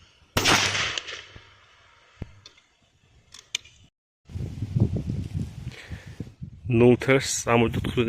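A single loud, sharp shotgun blast from a F.A.I.R SLX-800 with a 0.75 mm choke, firing a 32-gram 0000 buckshot load, rings out and decays quickly. A few seconds of quiet follow, then a person talks.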